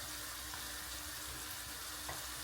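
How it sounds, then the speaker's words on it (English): Peppers and mushrooms fry over high heat in a pot for a one-pot bulgur dinner, giving a steady, soft hiss and sizzle throughout with no talking. "I'm increasing the heat so the mushrooms can cook"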